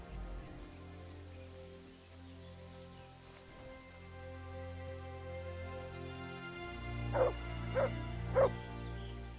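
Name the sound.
dog barking in video game Kingdom Come: Deliverance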